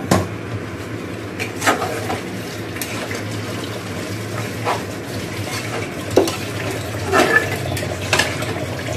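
Meat fries in a pan under a soft, steady sizzle, with intermittent scrapes and knocks of a spatula stirring it at close range.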